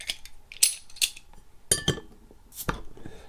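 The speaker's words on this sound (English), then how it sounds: "So let's get it opened up and get it into the glass." Clinks, clicks and metallic scrapes as a bottle of chocolate orange milk stout beer is worked open with an opener, a series of sharp, close taps spread irregularly across a few seconds.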